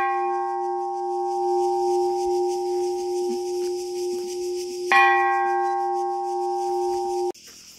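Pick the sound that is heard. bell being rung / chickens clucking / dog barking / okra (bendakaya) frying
bell being rung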